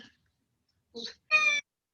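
A cat gives two short meows close to a microphone during a city council meeting held online, the second louder and clearer, with silence around them.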